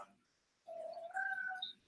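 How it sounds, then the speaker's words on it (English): A house cat meows indoors in an office, one drawn-out, rising call after a brief quiet pause, fairly soft and close. "Jack, are you meowing your face off"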